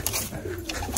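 A red Siraji pigeon hen giving a brief, soft, low coo, faint and close, with no other sound around it.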